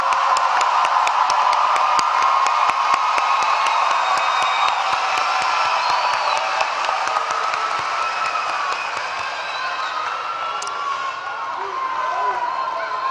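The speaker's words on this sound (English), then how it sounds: "give them the warm congratulatory applause that they deserve for having made it to this milestone" A crowd at a 2011 Dallas high school graduation applauds the graduates, with steady clapping mixed with cheers and whoops from a large gathering, holding an even, full level and tapering only slightly near the end.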